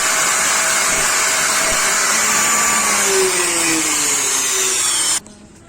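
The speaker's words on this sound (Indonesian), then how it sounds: "Jadi pipanya kita potong semua, kita gerinda, terus kita ganti pipa U-bin yang baru." An angle grinder whines loudly and steadily while it cuts through the copper U-bend pipes of a split AC evaporator, holding a continuous high-pitched drone for about five seconds before it stops abruptly.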